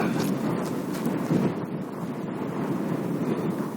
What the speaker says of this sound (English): It's kind of windy, you know?